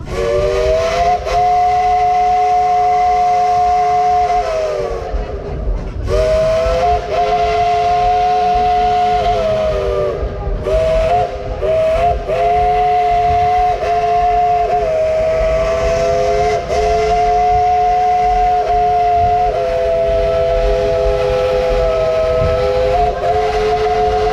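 A Southern three-chime steam whistle on Dollywood Express steam locomotive 70 plays a tune of long, loud, close chords with short breaks between blasts.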